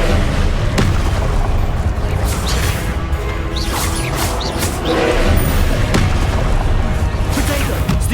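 Rapid spell blasts in Hogwarts Legacy combat, Expelliarmus, Levioso, Confringo and Depulso cast in quick succession, loud booming impacts and crashes overlapping in a dense, continuous barrage with no pauses.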